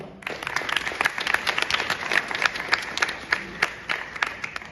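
Sustained applause from an audience at a community theatre play in Calgary, Canada, dense steady clapping with sharper bursts throughout and no voices on top.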